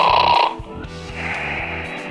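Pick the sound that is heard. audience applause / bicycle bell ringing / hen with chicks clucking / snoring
snoring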